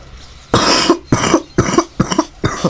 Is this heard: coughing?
yes